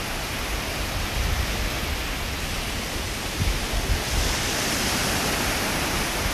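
Ocean surf at Destin Beach, Florida, near sunset rolls in as a steady, dense wash of noise with slight swells in loudness, fairly close and heard alone with no talk.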